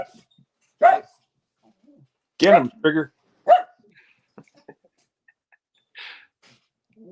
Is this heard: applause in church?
no